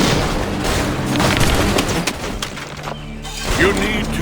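Musket volleys in a battle from Assassin's Creed 3: several loud, rough cracks and booms in a dense firefight, with shouting voices mixed into the din.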